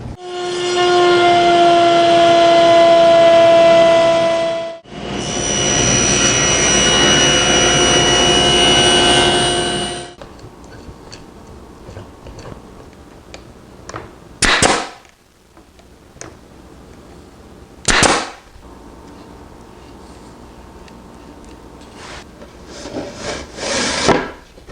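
A router table cuts rabbets in wooden drawer pieces against a sacrificial fence: a loud, steady motor whine runs in two long stretches, then quieter workshop handling with a few sharp bursts as pieces pass the bit.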